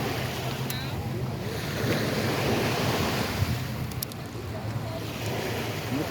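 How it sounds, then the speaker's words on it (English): Surf washes steadily onto a white-sand beach at Fort Myers Beach, Florida, at high tide, a continuous broadband rush mixed with wind buffeting the microphone and no distinct individual breakers. "just maybe one or two waves have come up here"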